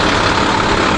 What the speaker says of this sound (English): Big Mac truck engine.